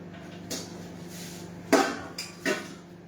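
A spoon clinks against metal thali dishes holding Rajasthani chutneys, a few sharp separate taps spaced about a second apart, the loudest near the middle, over quiet room noise.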